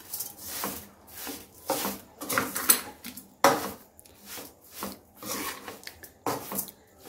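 A spoon scrapes and clinks against a pot as sugar is stirred into bottle gourd halwa, soft rhythmic strokes repeating close by.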